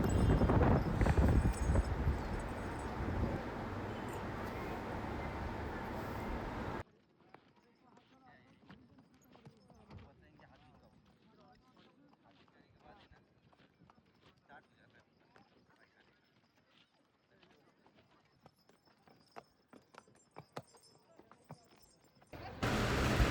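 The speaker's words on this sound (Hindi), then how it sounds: "इस बार मुझे दूसरा घोड़ा दिया गया" A horse's hooves clip-clop in a steady rhythm during a trail ride at Mahabaleshwar, with light wind noise. A louder, noisy passage comes before the hoofbeats.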